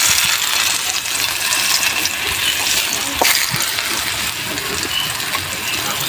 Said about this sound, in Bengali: বাগুন দিয়ে দিলাম, 3টা করে ভাজবো